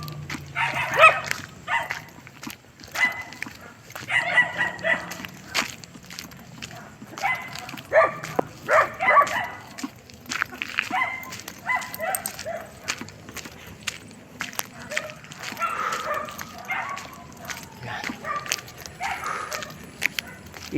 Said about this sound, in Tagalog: Oh, mga aso.